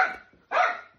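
A dog barks indoors, two close, sharp barks about half a second apart, fairly loud with nothing else heard around them.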